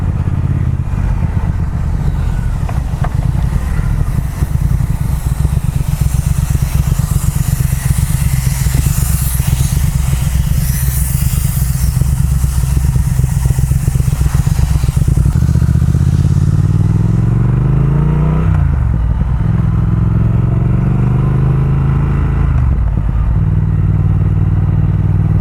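Triumph Speed Twin motorcycle being ridden, its engine droning loudly with wind rush, then easing off with falling revs, a short rise and drop again, and popping from the exhaust on deceleration.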